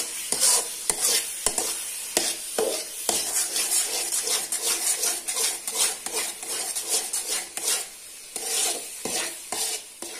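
Jackfruit halwa cooked with ghee is worked steadily around a pan, with rhythmic scraping and stirring strokes over a light sizzle and occasional utensil clinks, close and fairly loud.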